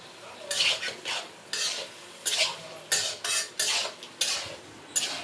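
Country chicken curry stirred in a pot, a spoon scraping around the vessel in a steady run of about eight loud, close strokes over a faint sizzle.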